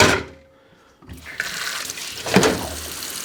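Water splashes and sloshes as peppers for hot sauce are rinsed, a short burst, a quiet pause, then continued running and swishing close by.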